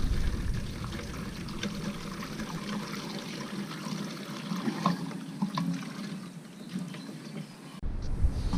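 Water-contaminated fuel oil is poured out of a Honda Zoomer-X fuel tank in a steady, close splashing stream that cuts off abruptly near the end, followed by a few drips.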